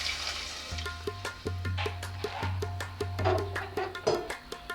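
Soaked kidney beans (rajma) tip into a pot of water for Punjabi rajma masala, splashing and clattering in a run of sharp knocks over a low hum, close by and with no talking.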